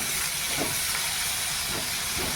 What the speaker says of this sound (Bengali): রসুন কুচি কুচি করে কেটে দিয়েছি, এইগুলো আমি তেলের মধ্যে দিয়ে দিচ্ছি